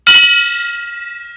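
A single loud metallic gong strike rings out at the start, its bright shimmering tone slowly fading and sustaining for over a second, heard alone during an indie games Gong Show.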